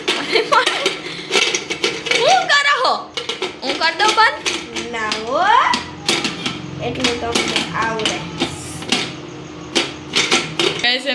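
A pressure cooker lid is closed over khichdi with metallic clanks and taps of the pot, under loud, nearly continuous talking, including a voice.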